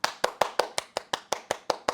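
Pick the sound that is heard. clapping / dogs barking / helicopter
clapping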